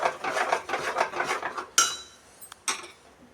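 A spoon scrapes and rubs through kesari as sugar is stirred in a pan, a steady rhythmic rasping of repeated strokes up close, then a few sharper clinks and scrapes near the end.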